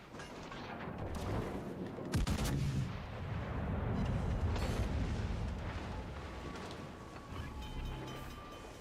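Naval secondary guns firing in World of Warships: Legends, a rolling barrage of heavy booms with one sharp blast standing out, loud and continuous against a rumbling battle background.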